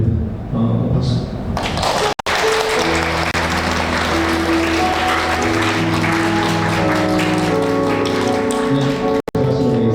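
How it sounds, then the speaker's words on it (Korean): Congregation applauds in a church worship service right after an infant baptism, a dense steady clapping that fills about ten seconds with sustained tones underneath and two brief cuts to silence. "박수."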